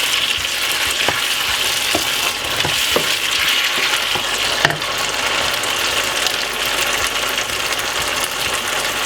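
Brown stew chicken with thyme and ketchup sizzles in a pot while a spoon stirs it, a steady fry hiss broken by scattered knocks and scrapes of the spoon.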